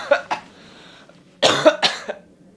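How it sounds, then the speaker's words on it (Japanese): Two quick coughs up close, a pause, then a louder burst of three or four harsh coughs in a row. "咳出ちゃった。"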